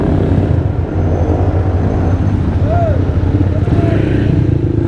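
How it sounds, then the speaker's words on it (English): A motorcycle's exhaust muffler drones steadily while riding on city roads between Quezon City and Marikina in the Philippines, loud and continuous with wind noise and a faint passing tone. "If you can hear your muffler through my microphone."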